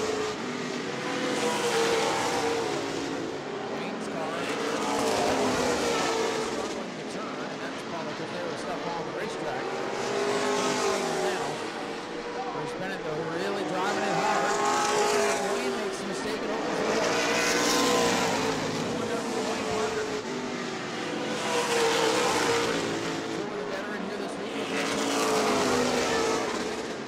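Race cars at speed at the New Smyrna World Series, including the black No. 24, roar past in repeated swelling waves of engine noise, each pass rising and fading, with an announcer talking throughout.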